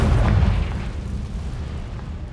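A Confringo fire spell from the Hogwarts Legacy video game bursts in a loud, low, booming explosion that rumbles at the start and then decays into a sustained roar across the short clip.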